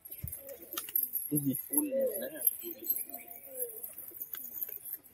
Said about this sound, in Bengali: এই যে এখানে পায়রাগুলোকে ছাড়া আছে